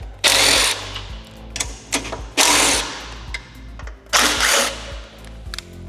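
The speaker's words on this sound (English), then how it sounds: "Next, we're going to take off the 4 bolts." Power tool loosening the four fuel tank bolts on a 2024-2026 Harley-Davidson Street Glide Ultra, heard as three loud, close whirring bursts with short pauses between them.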